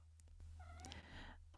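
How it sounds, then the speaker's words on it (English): A gray Scottish Fold cat gives one drawn-out meow after a couple of soft chirps, faint and close in a quiet room. "That is my cat."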